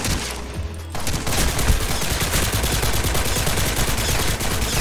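SMG gunfire in a first-person shooter video game, a loud continuous rapid burst of automatic shots that starts abruptly after a brief lull and runs steadily to the end.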